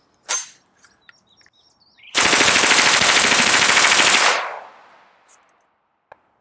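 Full-auto gunfire at a BulletSafe Level IIIA body armor vest with 115 grain Minuteman rounds: one loud, continuous burst of about two seconds, preceded by a sharp click and a few small handling noises, with a lone click near the end.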